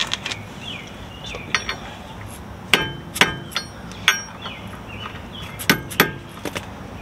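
Hammer strikes ring out on a metal car part from a 1993 Toyota Celica, a series of sharp, irregular clanging blows, close and fairly loud, with quiet pauses between hits.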